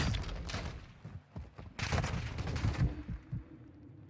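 Gunshots in an online shooter game crack in scattered clusters at moderate loudness, with some faint lower background noise.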